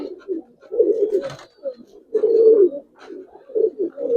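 Giribaz colouring pigeons coo close by in a series of soft, throaty bursts with short pauses between, fairly loud and without talk.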